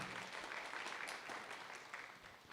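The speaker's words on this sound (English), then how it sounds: "Round of applause for Heather." A room of people at a school board meeting applauds an honored student, a short burst of steady, moderately loud clapping with no speech over it.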